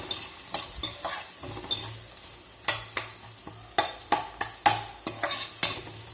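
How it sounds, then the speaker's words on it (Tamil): Tomatoes with salt frying in a pan for tomato and coconut chutney, a quiet sizzle broken by a run of sharp spatula scrapes and stirring clanks at an uneven pace, close up. "இது நல்லா இந்த தக்காளி நல்லா ஃப்ரை ஆகணும்"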